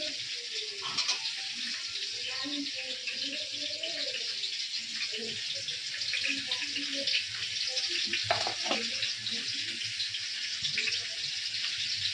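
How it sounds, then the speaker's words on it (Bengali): Potatoes frying in a home kitchen pan, a dense continuous hiss of oil holding steady the whole time, with a few faint clinks and quiet voices in the background. "আলুটা ভাজা ভাজা করে দেবো।"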